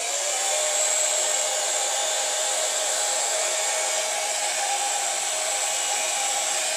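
A hair dryer blows hot air onto a nitro engine around its gaskets and crankcase, giving a loud, steady, unbroken whooshing hum from start to finish with no talk.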